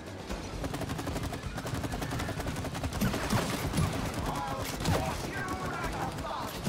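Rapid gunfire from a co-op video game, shooting at the queen in It Takes Two, rattles continuously at a loud, steady level throughout with dense repeated bursts under game effects.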